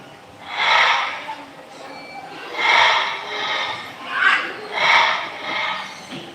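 A parrot mimics a ringing phone in four rising, warbling bursts with short gaps, fairly close and clear against a quiet background.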